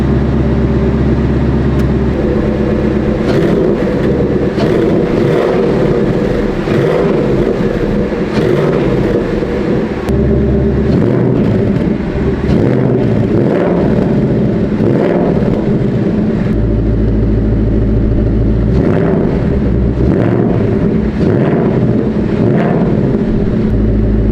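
A Ford Mustang S650 with a Steeda H-pipe exhaust revving repeatedly in bursts, loud and close, the exhaust roaring up and dropping back over a steady idle rumble.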